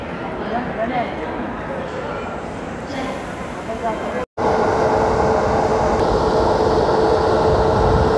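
The Danapur–Anand Vihar Jansadharan Express stands with its electric locomotive at platform 5 of Anand Vihar Terminal. Continuous loud railway rumble and station noise carry on throughout, with a brief drop midway, and people talk over it.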